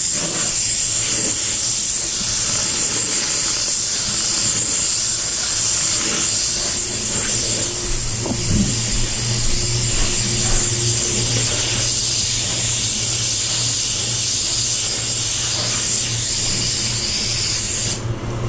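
A paint spray gun lays a control coat on a Range Rover Velar, a steady close hiss of atomized paint running unbroken throughout with a low compressor hum beneath and no talking.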